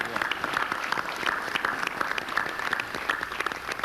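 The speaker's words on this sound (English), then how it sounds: "Now I want you to give a hand of applause to your parents and the coaches," An audience applauds parents and coaches at a basketball tribute event, a dense, steady burst of clapping from many hands filling the room, with voices mixed faintly underneath.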